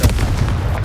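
A Confringo blasting spell from a Hogwarts video game detonates in one loud, booming blast that fills the short moment with a broad, rumbling roar and no talk.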